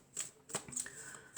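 Oracle cards being handled and drawn during a reading: a few soft, papery slides and flicks, quiet and close, with no voices over them.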